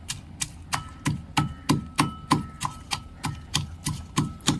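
Garlic, green chilli and curry leaves are pounded by hand for a potato paratha filling, about fifteen steady thuds, each with a sharp knock, in an even rhythm close by.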